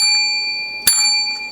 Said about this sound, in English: don't forget to hit this bell